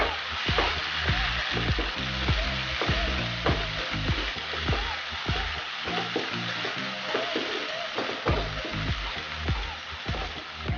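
Masala with turmeric and ground cumin frying in oil for egg masala curry, a steady close sizzle punctuated by regular scraping stirs of a spoon against the pan.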